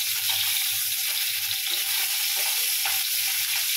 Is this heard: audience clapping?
no